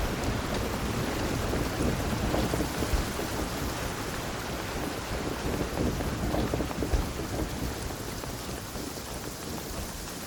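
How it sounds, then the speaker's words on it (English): Heavy rain in a video game pours down in a dense, continuous roar, loud and unbroken throughout, with no talking over it. "Quite a downpour."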